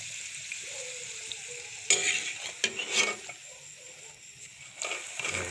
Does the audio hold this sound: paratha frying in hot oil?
yes